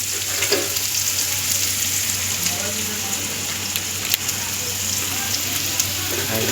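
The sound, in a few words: onions frying in a pan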